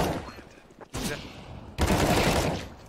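Video game gunfire comes in rapid bursts: a burst, a short pause, then a longer loud volley, dense and close, with excited talk mixed in.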